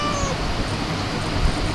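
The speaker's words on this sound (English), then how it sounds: "When I press enter, it will meow with the eye closed" A cat meow from a playful ASCII cat command-line program on a computer, a single sustained synthetic-sounding meow against steady background hiss.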